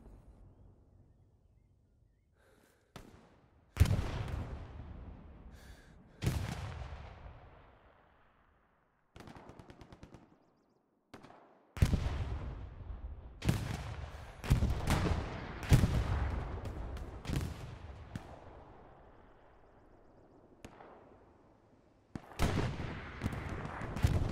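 Gunfire in the World War II shooter Hell Let Loose, sharp loud shots and short bursts with echoing tails, some nearby and some distant, spread unevenly with quiet gaps between them.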